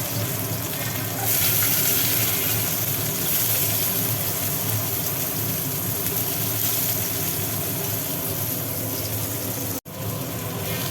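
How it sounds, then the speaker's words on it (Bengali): Onions fry in a pan with a loud, continuous sizzle and crackle close by, stirred at times, with a brief dropout near the end and no talking. "এবার পেঁয়াজগুলো একটু ভাজি করি পেঁয়াজ তুলে দিলাম"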